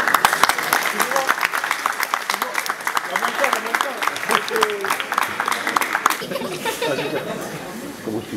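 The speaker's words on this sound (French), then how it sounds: "un tonnerre d'applaudissements pour vous tous" A crowd at a community dictation event in Massy applauds, with dense clapping and scattered laughter and chatter. Talk runs underneath, and the clapping thins out toward the end.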